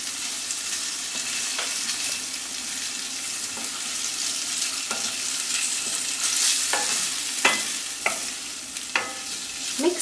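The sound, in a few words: diced boiled potatoes pan-frying with garam masala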